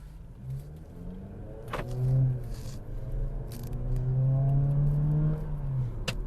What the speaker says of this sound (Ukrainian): стандартне прискорення джипа компаса